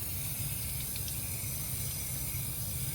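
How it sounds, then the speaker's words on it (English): Water sprays steadily from a hose, rinsing boards from a 1977 Boston Whaler 21 Outrage being restored, a soft continuous hiss close by with no talking. "just go ahead and give it a rinse"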